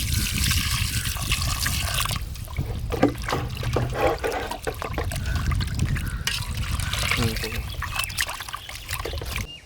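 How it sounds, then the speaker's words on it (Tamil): Water trickles and splashes steadily while country chicken is rinsed with turmeric in an outdoor village kitchen, with intermittent talk over the pouring. "தண்ணி ஊற்றுறது."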